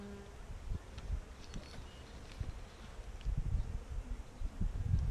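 Honey bees buzz around an open hive, a soft steady hum with faint rustling close by and no talking.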